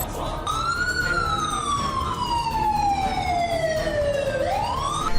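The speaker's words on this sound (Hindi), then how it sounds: "लश्कर के अड्डों पर सायरन बजने लगे हैं।" A loud emergency siren wails during a mock drill, one long tone sliding slowly downward and then sweeping back up, with traffic rumble underneath.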